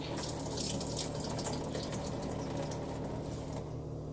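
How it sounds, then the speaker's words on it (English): Water squeezed from a block of tofu runs in a steady, faucet-like stream that stays even and continuous for about four seconds, quiet and close with no voices. "Now watch how much water comes out of this."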